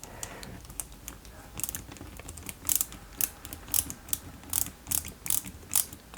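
Small screws are driven into a 1/8-scale Subaru Impreza WRC 2003 model kit, a close series of rapid ratcheting clicks in short bursts, growing more regular toward the end.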